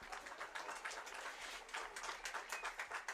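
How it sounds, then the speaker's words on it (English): Applause for a senior baseball player at a senior night ceremony, heard as a faint, distant crowd clapping in a steady broadband patter with no voices on top. "Ladies and gentlemen, a round of applause for Michael Dutenhofer"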